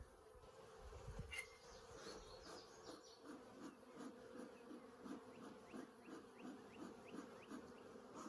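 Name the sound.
honey bees buzzing around hives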